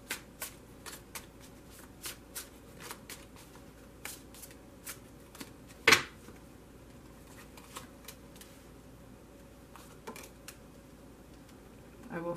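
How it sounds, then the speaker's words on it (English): A tarot card deck being shuffled by hand: soft riffling and flicking of cards in short, repeated bursts, close and fairly quiet, with one sharper snap midway and little else around it. "so I'm only going to shuffle it for a moment."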